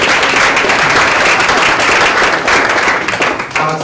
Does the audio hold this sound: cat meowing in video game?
no